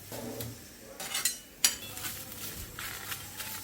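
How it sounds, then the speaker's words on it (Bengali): Taro (mankochu) leaf being fried and stirred in a pan, with light scraping and clinks of a utensil against the pan over a soft sizzle, close and fairly quiet. "আমি এখন মানকচুর পাতাটাকে একটু ভেজে নেব।"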